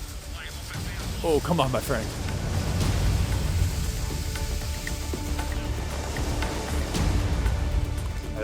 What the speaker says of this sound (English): With hail.